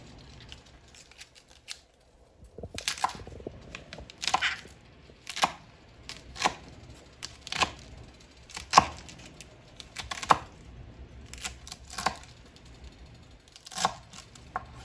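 Cabbage is cut up on a board. After a quiet opening, about a dozen sharp, crisp cuts follow in an uneven rhythm, close and fairly loud, with no speech.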